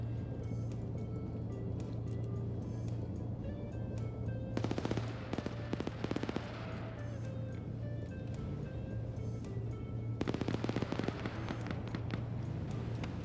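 Video game battle gunfire, with bursts of rapid automatic fire from a vehicle shooting blindly, sounds in two dense rattling volleys over a constant low engine hum. A quiet voice talks faintly in the background.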